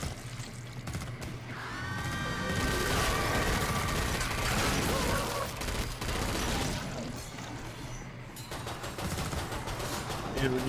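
Rifle fire in the tactical shooter SWAT, a busy run of gunshots through the middle stretch, loud and sustained, with voices talking over parts of it and other game sounds mixed in.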